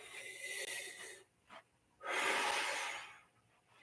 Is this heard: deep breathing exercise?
yes